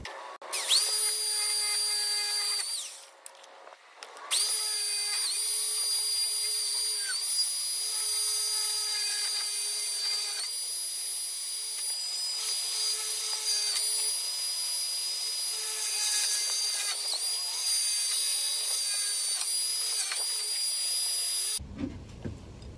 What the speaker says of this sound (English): use the reamer, which is this guy here, and that'll drill it out just enough